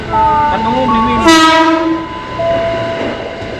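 A Jakarta KRL commuter train passing nearby, loud horn tones sliding and overlapping with a rising rush of wheels and rail noise, then fading as another horn tone lingers; voices faintly mixed in.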